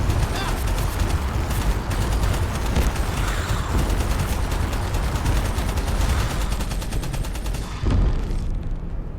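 Gunfire in the video game Abiotic Factor: dense, rapid automatic bursts roll on almost without pause, loud and close, with voices mixed in underneath.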